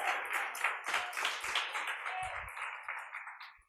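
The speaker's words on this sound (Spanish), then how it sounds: "También fuerte el aplauso." An audience at a training session for actresses claps warmly, producing a continuous patter of many hands that stays steady before easing off near the end.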